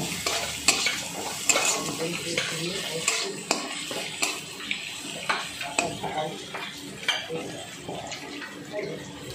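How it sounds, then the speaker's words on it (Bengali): Masala being stirred in a pan with half a spoon each of cumin and coriander powder, frying and sizzling under repeated sharp scrapes of the spoon against the pan in an uneven rhythm. "ধনে গুঁড়ো 1/2 চামচ আর জিরা গুঁড়ো 1/2 চামচ দিয়ে একটু নেড়ে নিচ্ছি।"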